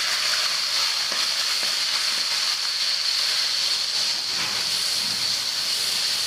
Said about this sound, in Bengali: মাছ ভাজা তেলের মধ্যে পেঁয়াজটা ভেজে নিছি, পেঁয়াজ ভাজা হয়ে গেছে, এখন একটু পানি দিয়ে নিব।